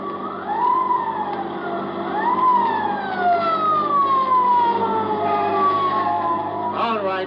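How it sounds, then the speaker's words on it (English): A motorcycle police siren wails, rising and slowly falling in long sweeps, loud and close, over a steady motorcycle engine rumble. "I hear that old familiar sound, a motorcycle siren"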